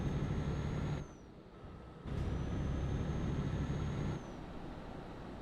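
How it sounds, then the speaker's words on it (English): A loaded semi truck climbs a long highway grade on a multi-state delivery, its engine roaring hard, then dropping off sharply twice under heavy braking before powering up again, loud and close from the cab. "You hear the truck accelerate really hard, brake really hard, accelerate really hard, brake really hard."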